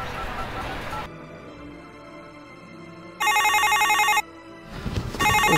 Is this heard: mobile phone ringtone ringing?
yes